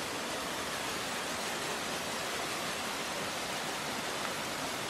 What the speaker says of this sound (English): It's a natural spring with a waterfall.